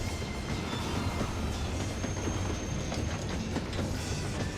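A train in Final Fantasy XIV rolls along with a soft, steady rumble and faint rhythmic clatter, quiet and continuous with no voices.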